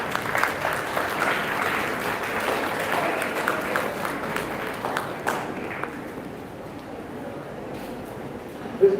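An audience at an awards prize-distribution ceremony applauds, a broad wash of many hands clapping steadily for several seconds before thinning out and fading toward the end.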